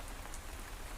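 Gentle rain falls steadily on a surface outside an old house at night, a soft continuous patter of raindrops with no voices.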